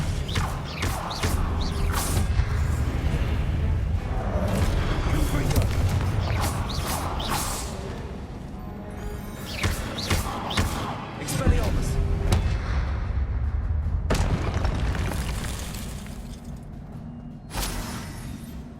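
In Hogwarts Legacy, Confringo blasting spells set off dense, booming bursts and crashing debris that roll almost continuously under speech, with a few sharper impacts standing out.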